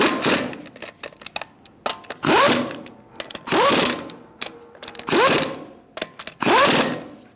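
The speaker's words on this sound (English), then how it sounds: "you're gonna tighten them in a star-like pattern using a 19mm socket" Lug nuts on a 2000-2007 Ford Taurus wheel are spun tight with a 19mm socket, giving several separate bursts of ratcheting, whirring mechanical clatter with short pauses between them, heard close up.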